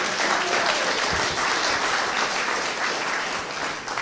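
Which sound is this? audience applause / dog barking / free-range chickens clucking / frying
audience applause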